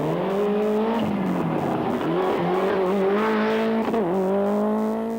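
A Ford rally car races flat out on a Tour de Corse tarmac stage in 1993, its engine loud and close, pitch rising and dipping through gear changes, with tire noise and no talk.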